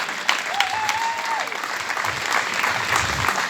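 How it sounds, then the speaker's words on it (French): Audience applauding loudly and steadily at an event, dense clapping throughout with a brief whistle-like tone early on. "Alors je crois qu'on pourrait les applaudir une nouvelle fois très très fort"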